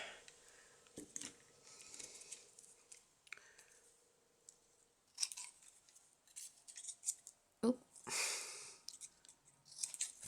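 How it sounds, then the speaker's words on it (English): Scissors in need of cleaning and sharpening snip through paper for vintage notecards, giving close, crisp cuts in irregular bursts with rustling paper and quiet gaps between. "my scissors need cleaning as well as sharpening"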